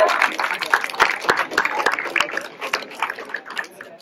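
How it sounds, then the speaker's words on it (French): Applause fills a room at a middle-school slam poetry tournament, a dense steady patter of many clapping hands with a few sharper claps standing out, easing slightly toward the end. "Bravo, on applaudit très fort."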